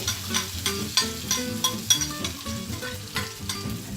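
Pork frying over low heat in a pan for Thai pad krapow, a steady close sizzle with periodic clanks and scrapes of stirring and no talking.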